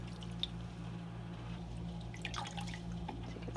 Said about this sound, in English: Give it a little squeeze